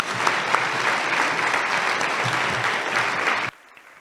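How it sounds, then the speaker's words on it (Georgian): Steady, dense applause from a large audience honouring the 2025 graduates at a university graduation ceremony, loud and continuous for about three and a half seconds before cutting off abruptly. "ტაში 2025 წლის კურსდამთავრებული"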